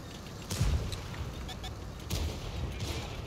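The gun of a Škoda T 56 tank in the World of Tanks video game fires twice, each a deep booming report with a rumbling tail, the two shots about one and a half seconds apart amid engine-like background noise.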